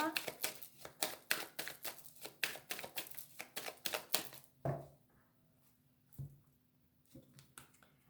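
A deck of oracle cards gets shuffled and cut, a quick run of close, crisp flicking taps for about four seconds, then a few isolated soft card sounds in near silence.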